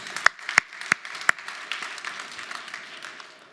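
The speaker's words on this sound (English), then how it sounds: "Maybe another round of applause." Keynote audience applauding at a business conference, a few sharp distinct claps at first that fade into softer, thinning clapping.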